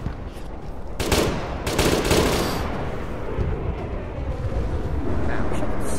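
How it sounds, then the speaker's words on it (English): Bursts of automatic gunfire in the Aegis Community Ops shooter game, loud and close, rattling in several sustained volleys. "something's firing at us from further northeast"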